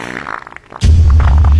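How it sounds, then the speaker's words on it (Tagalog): A loud, low rumbling fart bursts out suddenly and lasts for most of a second, following some quiet murmuring. "Umutot ka ba?"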